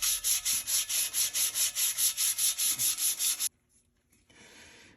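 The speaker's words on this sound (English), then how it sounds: "So I'm going to prep it by sanding it really well." Brisk back-and-forth sanding strokes on a car wheel rasp loudly and evenly for several seconds, then stop abruptly, leaving faint rustling and near quiet.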